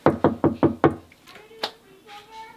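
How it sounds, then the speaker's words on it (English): Five sharp knocks on a bedroom wall come in a quick, even series, loud and close, and a voice talks faintly afterward. "Okay, Rexy, go to your bedroom, knock on the wall"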